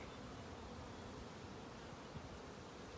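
Honeybees buzz steadily and densely around an open hive being inspected, a continuous, soft, even drone with no voices.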